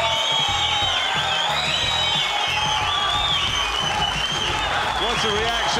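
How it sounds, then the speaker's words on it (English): Packed crowd at a women's squash match erupting in sustained applause, cheers and whoops, a dense, loud roar that holds steady throughout without letting up. "The crowd are going nuts here."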